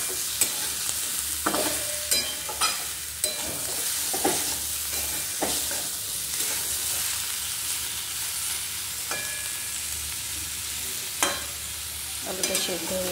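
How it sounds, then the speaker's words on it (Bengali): Pointed gourd and potato pieces frying in a pan while being stirred, a steady crackling sizzle broken by repeated scraping clinks of the spatula, close up with no voices. "পটল আলু খুব সুন্দর ভাজা ভাজা হয়ে গেছে"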